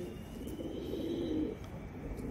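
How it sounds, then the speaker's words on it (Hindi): Pigeons, including birds bought from a Rampuri breeder, coo softly in a low, steady murmur that rises slightly midway through the clip, with no talking over it. "ये जो उस्ताद दिलावर खान से कबूतर लिए थे मैंने"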